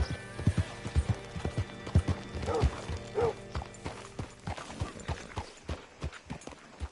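Hooves clip-clop at a walking pace in a PS4 video game, clear rhythmic knocks close by, with a horse's whinny partway through and faint mechanical creaks behind.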